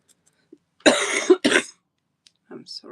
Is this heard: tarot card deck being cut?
no